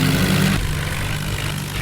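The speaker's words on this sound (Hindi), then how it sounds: "जेसीबी वाली भाई साहब ने भी अपना जेसीबी चालू कर दिया।" A JCB backhoe's diesel engine in the Indian Vehicle Simulator 3D mobile game runs with a loud, steady low rumble and throb, a heavier burst at the start settling into an even drone.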